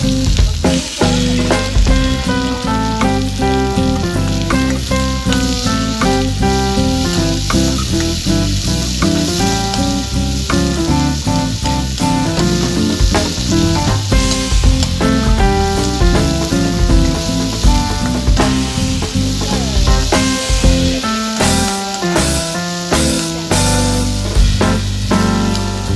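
Onions frying in a pan while making chicken manchurian, a continuous loud sizzle with stirring, heard beneath background music.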